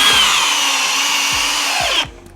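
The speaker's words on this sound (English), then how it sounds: "We are going to be on this drill in turbo mode, in speed 2, in drill mode to go ahead and start." A Flex cordless drill in turbo mode, speed 2, drives a 6-inch timber lock screw into wood with a loud, steady high whine and periodic low thumps, then cuts off abruptly near the end.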